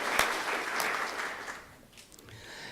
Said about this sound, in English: I'd like you to give her a round of applause.